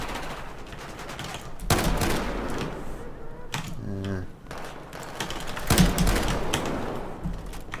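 Shotgun gunfire in Battlefield 4, several loud blasts amid a busy battle with mechanical clicks, rapid background fire and overlapping speech.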